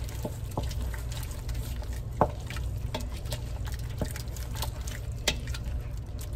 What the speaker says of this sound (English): And give that a stir again and get that mixed in there.